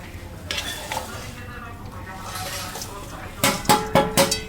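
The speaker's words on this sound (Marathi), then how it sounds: "आता आपण फणस या फोडणीमध्ये टाकणार आहोत." Jackfruit pieces tumble into a hot chili tempering in a pan, with a quiet stretch followed by a cluster of sharp clattering knocks near the end.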